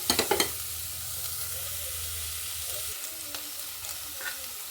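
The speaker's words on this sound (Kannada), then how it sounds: "ಇವಾಗ ಒಗ್ಗರಣೆಗೂ ಜೀರಿಗೆ ಹಾಕಿದ್ದೆ." Cumin seeds hit hot oil for the tempering of a moong dal tovve, giving a sharp initial crackle that settles into a steady, close frying sizzle with a few small pops.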